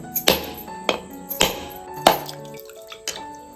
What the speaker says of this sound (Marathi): इकडे एक नारळ फोडून झालेला आहे दुसरा सुद्धा फोडून घेतोय